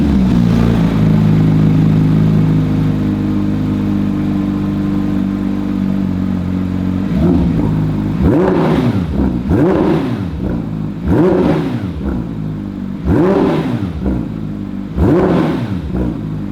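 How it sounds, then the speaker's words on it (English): Porsche 992 GT3 with its free-breathing 4-litre six-cylinder engine, first holding a steady rumbling idle, then blipped in five sharp, evenly spaced revs that rise and fall, loud and close, with no talk. "But you want to hear the sound of this 4-litre engine"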